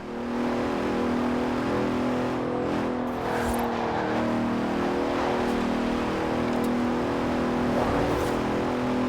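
A Bentley Continental GT grand tourer in Forza Horizon 4 on Xbox Series X drives with a sustained engine roar that swells and revs, loud and continuous throughout without any talk.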